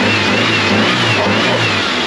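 A supercharged Toyota 3RZ engine in a 4x4 Toyota Sunrader motorhome revs steadily and loudly, a continuous mid-pitched drone with a faint whine riding over it and no talk.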